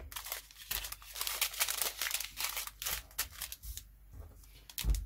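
Packets of diamond painting drills are handled and cut open, giving close crinkling, rustling plastic and snipping sounds in short irregular bursts, with no one speaking.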